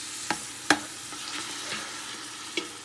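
Onions frying in a pan for a homemade fresh-tomato marinara, a steady soft sizzle with a few sharp spoon or utensil clicks against the pan, no voices.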